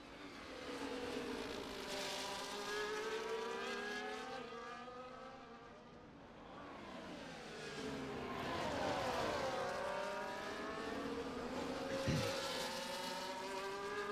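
Formula 1 race cars in a video game of the Singapore Grand Prix, with several high-revving engines rising and falling in pitch as they pass, one car after another, steady and fairly loud throughout.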